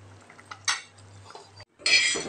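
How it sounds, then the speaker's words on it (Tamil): A spoon scrapes and clinks against a pot of Kumbakonam kadappa with potato and moong dal, in a few short stirring strokes close by, with a brief silent gap near the end. "நல்லா கலக்கி விட்டுருங்க"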